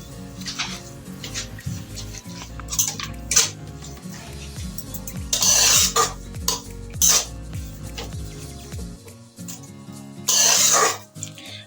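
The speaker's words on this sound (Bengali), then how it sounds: "যতক্ষণ না চিনিটা গাজরের সঙ্গে মিক্সড হয়ে যাচ্ছে ততক্ষণ আমি এটা ভাজবো।" Grated carrot and sugar for carrot halwa being stirred in a pan over a low flame, with bursts of spoon-on-pan scraping over a steady tonal background and no voices.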